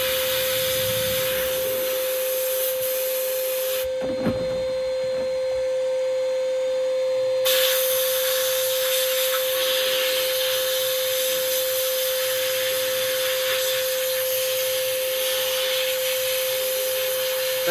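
A sandblasting cabinet blasts an object with a steady, hissing roar. The roar drops out briefly and then resumes, and a continuous high tone runs underneath throughout.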